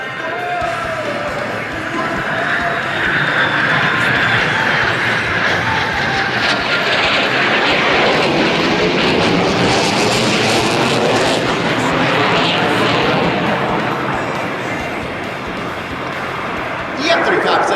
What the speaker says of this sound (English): Today, we will showcase just a fraction of the engine's power.